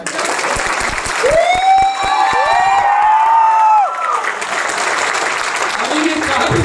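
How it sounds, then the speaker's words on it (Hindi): Audience at a stage show clapping and cheering, a dense steady wash of applause with a rising whistle or whoop near the start, while a speaker talks over it. "मैं स्टार होती हूँ तो ताली ऐसे ही बजाओगे क्या?"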